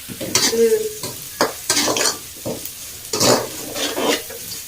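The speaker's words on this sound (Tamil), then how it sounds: "அடுத்தது தக்காளி போடுறேன்." Tomatoes go into onions frying in a pan, producing bursts of loud sizzling and repeated scraping stirs in irregular strokes, close up with no talking.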